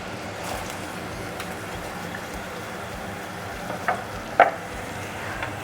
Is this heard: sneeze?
no